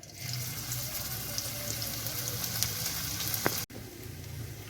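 Ginger dropped into hot oil while a paneer and capsicum curry cooks, giving a steady close sizzle and crackle throughout with no talking.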